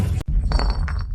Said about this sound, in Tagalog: Baka hinaipan lang ng hangin yung bote.